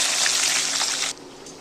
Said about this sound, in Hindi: जब तक अनियन फ्राई हो जाएंगे